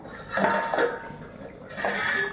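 A lid is lifted off a pot of fish curry with a couple of soft metallic clinks and scrapes against the rim, close and moderately loud.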